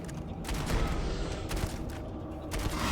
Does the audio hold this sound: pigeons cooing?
no